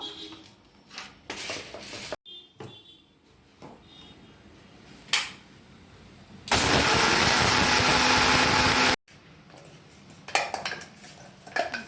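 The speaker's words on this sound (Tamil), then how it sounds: "அதனால் இப்போ அரைக்க போகிறோம்" A mixer grinder whirs loudly for a couple of seconds in the middle, grinding spices for idli podi, bracketed by clinking and rattling of jars and utensils.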